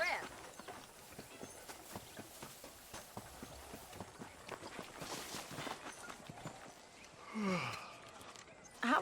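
Horse hooves gallop in the Red Dead Redemption western video game as a quick, steady clip-clop rhythm that carries through, with a voice speaking over it near the end.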